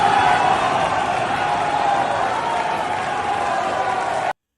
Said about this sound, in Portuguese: Está todo mundo vaiando o Petro.